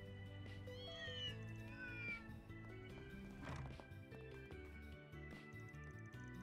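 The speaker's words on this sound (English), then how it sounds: "Got a lot of stray cats here in Oldtown," Stray cats meow repeatedly in the Oldtown area of the video game Trails Through Daybreak, with several drawn-out, rising cries over a looping music backdrop and no talk.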